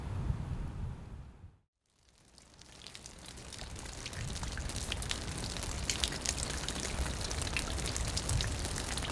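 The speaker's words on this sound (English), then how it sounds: "It is raining, but it's normal, it's autumn and winter." Steady rain patters and hisses outdoors in autumn around a property, loud and continuous, broken only by a brief drop to near silence before it resumes.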